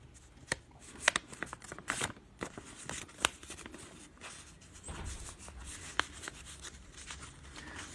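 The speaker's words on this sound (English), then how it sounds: "Fold the four corners in to the center." A sheet of paper folded by hand as its four corners are brought to the center, with close crisp rustles, creases and soft taps in irregular bursts against light background noise.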